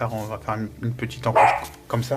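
Nina, a pet dog, barks in a workshop during assembly of an F1 model, her short yelps mixed under a man's steady speech in French.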